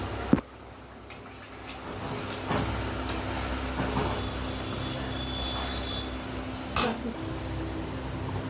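Kharkol leaf paste bubbling in oil on a gas stove gives a soft, steady hiss with a few faint clicks and a brief louder burst near the end.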